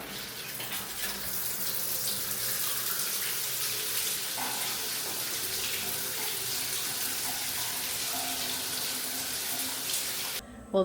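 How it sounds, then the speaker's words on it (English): Hot shower water running steadily in a campground bathroom, a continuous close hiss of spray that holds level for about ten seconds before cutting off abruptly. "the hot shower felt amazing"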